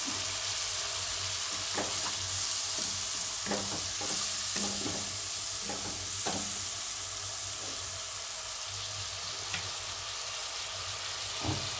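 Spice paste with a splash of water fries in a pan for a vegetarian radish dish, giving a steady loud hissing sizzle with scattered utensil scrapes and stirring clicks, close and continuous.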